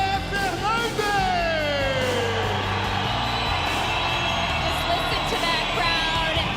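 Crowd at a UFC São Paulo weigh-in roaring and yelling, a loud sustained wash of shouts and cheers with an announcer's voice rising over it early on.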